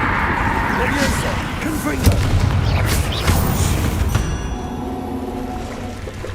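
Fiery Confringo spell blasts in the video game Hogwarts Legacy, a few dull booms landing over a steady rumble of game action and music.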